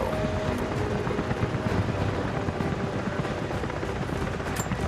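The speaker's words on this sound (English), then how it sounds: "Jacob, helicopters are headed your way." A helicopter in Rise of the Tomb Raider thrums loudly and steadily with a dense, continuous rotor roar that stays close throughout, with no voices.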